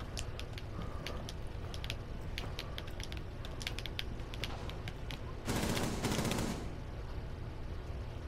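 Gunfire in a Rainbow Six style shooter: scattered sharp distant shots and clicks throughout, then a dense, louder automatic burst lasting about a second near the end.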